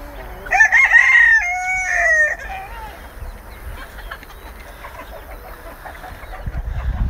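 A rooster crows loudly once, a long drawn-out call close by, followed by quieter farmyard background and a low rumble near the end.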